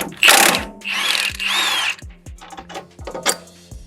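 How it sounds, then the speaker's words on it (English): Impact gun loosening the lower strut mount bolt on a Chrysler 300C, two loud sustained rattling bursts close by, followed by shorter clicks and metallic taps. "We'll just stick a gun on there and unbolt her."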